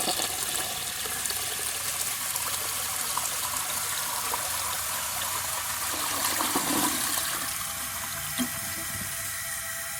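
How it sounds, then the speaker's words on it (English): A 1987 Norris toilet flushes with a strong, steady rush of water that keeps running as the bowl drains and refills, close and unbroken, with no voices. "I'll just show you a flush like always."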